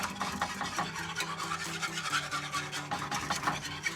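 A whisk scrapes steadily against a bowl while mixing a feta sauce with about 1.5 cups of liquid, producing a continuous rhythmic rasping swish with no talk.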